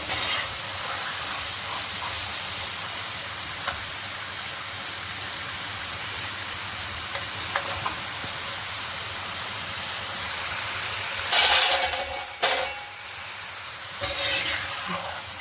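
Elephant yam chilli pieces fry in a pan with a steady, soft sizzle and hiss, broken near the end by a few louder scraping stirs; no one speaks.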